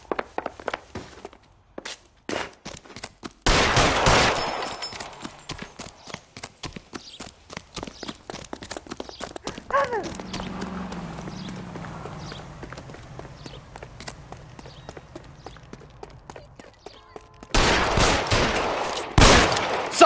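Gunfire in L.A. Noire, with sharp bursts of shots in a cluster early on and another at the end, scattered clicks and footsteps between them, and a quieter stretch in the middle.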